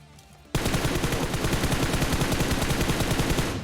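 A burst of rapid automatic gunfire in PUBG Mobile erupts abruptly after a brief lull and keeps hammering loud and close in a fast, even rhythm.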